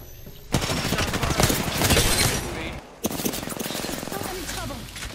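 Dense bursts of video game gunfire crackle in rapid volleys, loud and close, with a brief gap near the three-second mark before the shooting resumes; a voice talks over parts of it.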